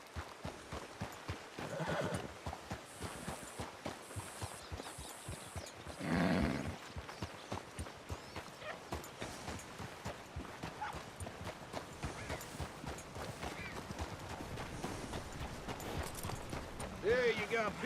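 A horse in the Red Dead Redemption 2 video game whinnies loudly in a short burst while hooves clip-clop steadily along a path, with game voices talking over the sounds.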